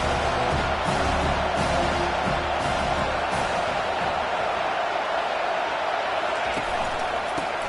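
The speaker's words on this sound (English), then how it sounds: "And here comes the noise. This crowd is trying to inspire this defense to make a big red zone stop." A large stadium crowd at a college football game roars steadily during a red-zone defensive stand, a dense, continuous wall of cheering and noise that stays loud and unbroken throughout.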